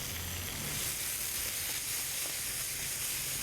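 Meat sizzling in a hot stir-fry pan makes a dense, even hiss that carries on steadily and close throughout, with no talking.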